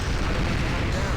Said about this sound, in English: the explosions go through the door and hit them